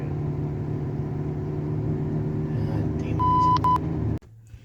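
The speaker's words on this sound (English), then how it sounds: "the car won't shift out through the gears. It's like it's stuck in first gear, and you can hear when I rev it up" A 2011 Nissan Altima with a faulty CVT that stays stuck in first gear runs at a steady, droning engine hum, then a few quick electronic chime beeps sound before the engine noise abruptly drops away.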